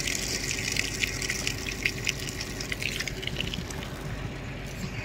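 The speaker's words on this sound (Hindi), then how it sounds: "पानी निकल रहा है अंदर से" Water gushes steadily out of the ground at a landslide-hit mountain site in Dharchula, a dense continuous rushing wash that stays loud and even throughout, with no pauses.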